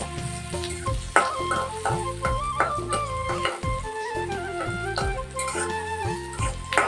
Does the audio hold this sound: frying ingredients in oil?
yes